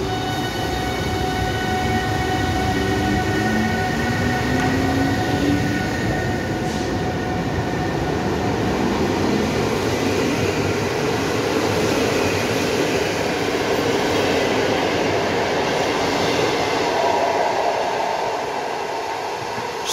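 Locomotive Zosia pulls away from Łódź Widzew station with a loud, steady rumble and a rising engine tone, the sustained roar of the moving train filling the whole stretch with no voices.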